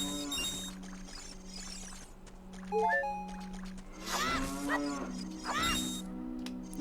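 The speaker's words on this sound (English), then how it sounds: "hearing a cow moo is your indicator for a secret cave" Several loud, drawn-out cow moos from a video game ring out one after another over a steady low hum, with no talking.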